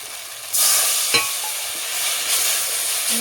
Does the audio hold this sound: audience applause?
no